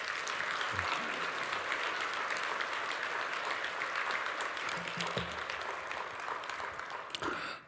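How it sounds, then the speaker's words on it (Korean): A church congregation gives sustained applause welcoming the senior pastor forward during a Sunday worship service; steady, dense clapping fills the hall for several seconds before tapering off at the end. "우리 큰 박수로 앞으로 모시겠습니다."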